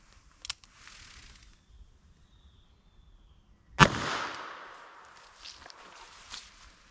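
A .38 Special wadcutter round fires into clear ballistics gel, giving one sharp, loud report that decays over about a second, with faint handling clicks and movement before and after.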